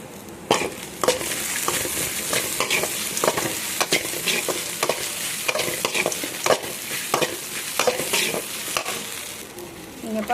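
Okra sautés in a pan with a constant hot sizzle, and a spatula stirs and scrapes in frequent rhythmic strokes close by, with no talking.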